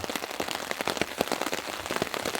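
Heavy rain drums on a tent or tarp at a wilderness campsite, a dense, close patter of countless drops with sharper individual hits throughout and no voices.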